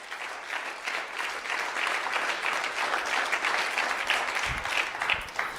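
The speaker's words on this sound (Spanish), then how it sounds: "Fuerte el aplauso a la gloria de Dios." Congregation in a church gives sustained applause to the glory of God, a steady even wash of many hands clapping, moderately loud and heard from within the room.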